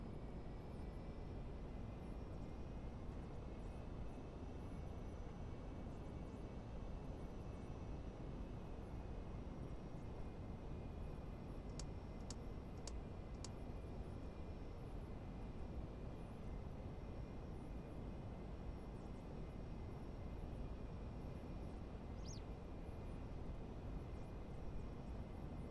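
Business jet in the Prepar3D simulator, an Xtreme Prototypes GLJ 25 Learjet model, taxiing with a steady, faint whine of idling engines and a continuous low rumble throughout, without voices.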